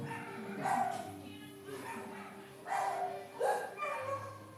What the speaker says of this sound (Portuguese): Aí tem um cachorro sem dono.